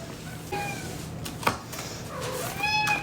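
A cat gives two clear meows, one short and one longer, with a single sharp clatter between them over steady low background noise.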